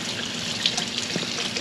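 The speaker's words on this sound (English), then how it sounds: "so I'm just gonna give them a good rinse." Tap water runs steadily over red chili peppers being rinsed in a sink, a soft continuous splashing trickle heard up close with no talk.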